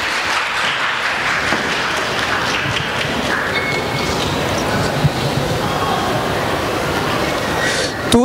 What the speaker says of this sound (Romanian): Un rând de aplauze vă rugăm.